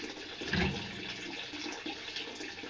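Water draining steadily from a propane hot water heater, a continuous soft wash of running water with a slightly louder gush early on.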